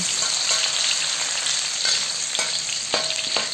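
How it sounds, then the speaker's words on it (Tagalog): Sliced garlic frying in hot oil in a pan, a dense, steady crackling sizzle throughout with occasional sharper pops and stirring scrapes, close and loud. "At kapag mainit na ang mantika, ilagay na natin ang hiniwang bawang."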